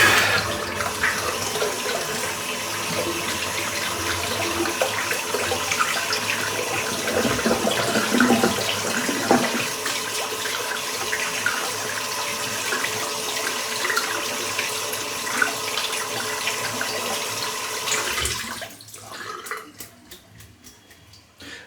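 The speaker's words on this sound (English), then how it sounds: "Just a quick rinse in the water" Tap water runs steadily and fairly loud while a boar-knot shaving brush is rinsed at the sink, a continuous splashing rush that cuts off near the end.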